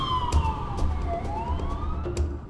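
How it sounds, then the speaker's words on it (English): An emergency siren, its wailing tone sweeping up and down steadily throughout, heard at moderate distance over low road rumble with no talking, consistent with an ambulance arriving at a stabbing scene. "And then the ambulance, it turned up"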